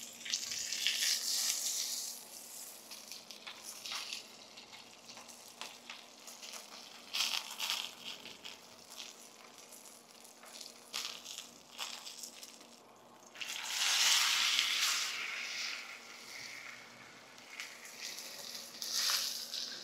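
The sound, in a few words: ribeye steak fat edge searing in a skillet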